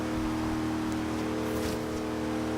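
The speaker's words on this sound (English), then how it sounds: "the sound of the engine in my Vandura" A GMC Vandura van's engine in a Forza racing game, a steady low droning rumble with vibration, continuous and close with no talk.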